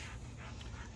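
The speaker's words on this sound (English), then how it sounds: "that's the dog in the background." A dog in the background pants and whimpers faintly in one brief, soft, breathy stretch.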